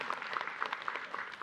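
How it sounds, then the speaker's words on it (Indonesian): Studio audience at an Islamic religious talk show clapping steadily, fairly soft and slightly distant, with a scattered patter of individual claps and no talking over it. "tepuk tangan dulu yuk"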